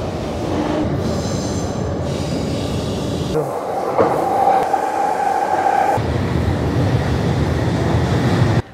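Trains passing all around a spot in Tokyo: loud close rumble of railcars with squealing wheels, rattling and a high whine, one passing train giving way to another, continuous throughout.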